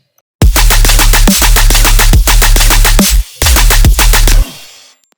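Machine-gun style dubstep bass built in Serum and layered with a fat sub: loud, dense rapid-fire stuttering bursts in four long runs separated by brief gaps, fading out at the end.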